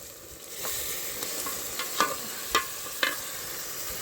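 Tomato, ginger, onion and chili gravy fries in a pan while a utensil stirs it, with a steady sizzle and three or four sharp scraping clinks near the end.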